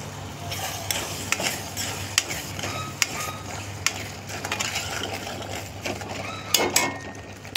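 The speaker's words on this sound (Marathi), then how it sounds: "आता टाकूया वाटण।" Ground masala paste is stirred into a prawn-and-pea curry in hot oil: a low sizzle runs under repeated scraping, with the spoon clinking against the pan at a fairly regular pace.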